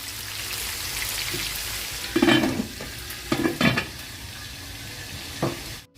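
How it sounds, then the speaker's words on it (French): A whole cut onion frying and browning in a pan for a millet couscous dish, with a constant close sizzle broken by several louder scraping stirs before the sound cuts off abruptly at the end. "Alors je vais mettre ici un oignon coupé, un oignon entier. Et puis je laisse dorer aussi."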